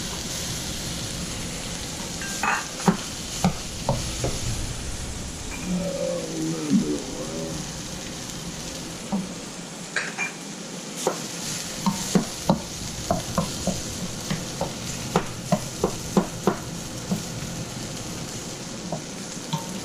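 Aromatics stir-fried in a pan for fried rice with crispy rotisserie chicken skin, a steady soft sizzle running throughout, with a series of sharp spatula scrapes and clicks growing more frequent toward the end.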